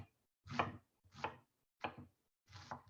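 A knife mincing onion on a cutting board gives four distinct, evenly spaced chops, each a crisp close thud on the board with quiet pauses between strokes.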